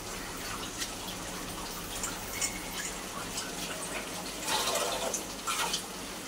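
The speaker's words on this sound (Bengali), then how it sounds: "এবার এই বাটিটা ধুয়ে একটু জল দিয়ে আমি ঢাকা দিয়ে দেবো।" Water gushes and splashes into a bowl in a kitchen while coriander chicken is being cooked, a steady close pouring sound with a few louder surges toward the end.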